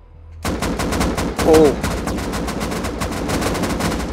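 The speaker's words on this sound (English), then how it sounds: "That's a lot of gunfire" Dense, rapid gunfire in the video game Rust rattles continuously, with a brief startled exclamation from a voice partway through.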